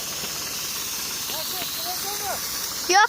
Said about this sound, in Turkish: ilacı da bu şekilde sıkıyoruz